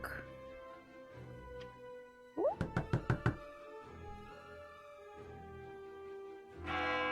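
A ghostly knocking effect from a spell in a tabletop roleplaying game, heard as a rapid run of about six sharp, loud knocks following a rising tone, set against a sustained eerie musical drone.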